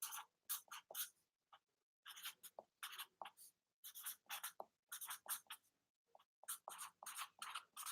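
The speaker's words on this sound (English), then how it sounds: "I'm going to write down a little tip for remembering it." Pen scratching across paper as a short tip is written out by hand, close and quiet, in quick bursts of strokes with brief pauses between words.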